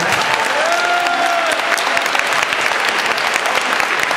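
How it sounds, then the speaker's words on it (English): An audience at an MLK Day 2010 event for a restaurant workers' group bursts into loud, sustained clapping that fills the room, with a faint voice briefly audible near the start. "how many of you have ever eaten in a restaurant?"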